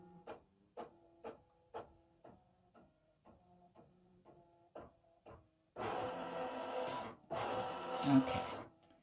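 An embroidery machine stitching into greeting card stock starts with a series of evenly spaced light mechanical ticks, then breaks into two longer bursts of loud, rapid buzzing stitching.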